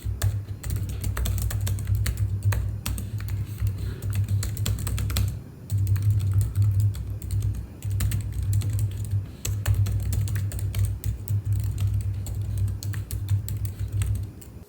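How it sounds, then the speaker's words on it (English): Rapid, steady typing clatters on the RGB tactile silent hybrid keyboard of an Aftershock Forge 15S gaming laptop, close and continuous with only brief pauses. "the Forge 15S has a RGB tactile silent hybrid keyboard"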